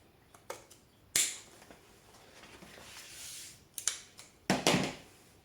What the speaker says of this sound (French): Moi, je vais le faire avec les ciseaux.